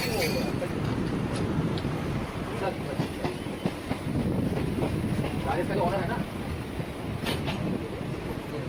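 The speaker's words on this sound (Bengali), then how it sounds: "আমাদের ট্রেন এখন বর্ধমান জংশন ঢুকছে।" A Howrah–Barddhaman chord line local train rolls into Barddhaman Junction, with a loud continuous rumble and rattle from inside the carriage, some clickety-clack and wind, and voices murmuring faintly underneath.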